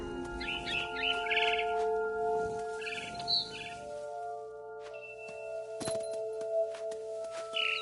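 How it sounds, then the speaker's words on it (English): In the video game What Remains of Edith Finch, a barn swallow's bright, short chirps come in a few bursts over steady synthetic tones and scattered clinks, with quiet gaps between the calls. "Then I heard chirping outside my window. It was a barn swallow going back to her nest."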